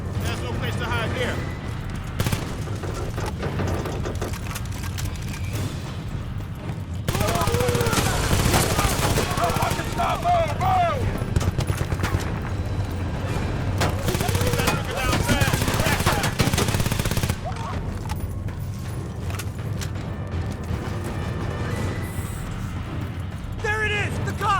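Gunfire in the video game Battlefield Bad Company 2, with continuous heavy automatic fire and rapid bursts throughout, mixed with explosions and shouted voices.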